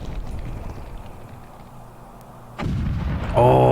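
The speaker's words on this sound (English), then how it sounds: "Cannon! That's where I'm aiming" Cannon fired in the Rise of Liberty video game, one sharp boom partway through followed by a rumbling tail over low background noise, then a voice rises at the end.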